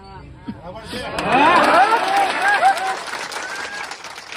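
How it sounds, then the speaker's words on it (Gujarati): Crowd applause and cheering at an outdoor political rally rise in the middle and then fade, mixed with a voice speaking loudly over the noise. "તાળીઓ તમારી તાળીઓ સાંભળવા હું નથી આવ્યો"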